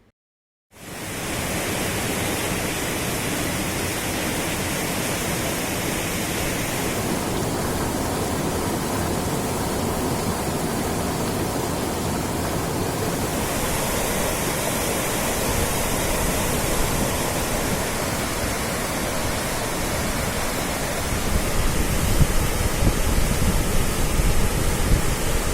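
Floodwater from the swollen Morna river in Akola pours over the low Rajeshwar bridge, a loud continuous roar and rush that holds steady for the whole stretch with no voices.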